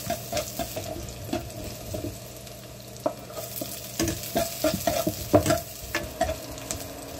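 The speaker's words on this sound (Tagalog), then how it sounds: "Pag mainit na yung mantika, igisa na natin yung bawang at sibuyas." Garlic and onion sauté in hot oil in a pan for ginisang kalabasa, a dense close sizzle broken by repeated clattering stirs and scrapes of a spatula against the pan, without speech.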